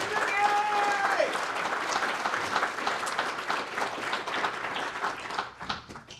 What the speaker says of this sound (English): Please give Vicki a round of applause.